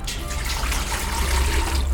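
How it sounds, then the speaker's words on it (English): Tap water pouring into a pot holding beans and garlic, a steady close gushing fill with a bright splashing rush throughout. "And we'll just fill it up with water."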